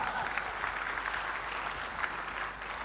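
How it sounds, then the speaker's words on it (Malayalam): An audience at a talk claps steadily for a few seconds, a dense, even patter of applause heard from a moderate distance. "ഒരു ക്ലാപ്പ് കൊടുക്കാം ബിഗ് ക്ലാപ്പ്"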